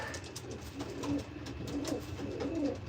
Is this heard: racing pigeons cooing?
yes